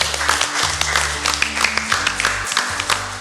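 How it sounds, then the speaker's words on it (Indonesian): Audience applause during a televised theology quiz contest between two teams, brisk clapping with a low musical tone sustained underneath, moderately loud throughout. "Kita berikan tepuk tangan."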